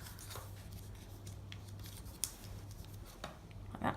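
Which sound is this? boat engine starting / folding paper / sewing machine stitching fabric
folding paper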